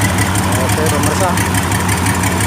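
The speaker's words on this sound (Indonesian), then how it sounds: "ini adalah mesin Mitsubishi 6D14 yang kita overhaul baru-baru ini, sudah selesai." An overhauled Mitsubishi 6D14 diesel generator engine with a 75 kVA alternator idles loud and close, a steady low rumble with a rapid, even knocking pulse that never changes pace.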